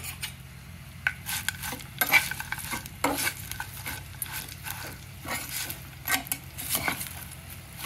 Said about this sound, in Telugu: దీనిలో వేయించి పెట్టుకున్న కాకరకాయ ముక్కలు ఉల్లిపాయ ముక్కలు వేసేసుకోవాలి.